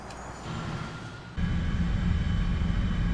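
An F9F-8 jet in the War Thunder flight simulation spools up for takeoff, a steady broadband engine roar that jumps noticeably louder partway through and then holds, with no voices.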